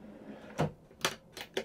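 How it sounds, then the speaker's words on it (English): A galley drawer in a camper van slides and knocks as it opens. Four crisp, close clacks come at uneven intervals, and the handling is quiet with no talk over it. "Drawer number two,"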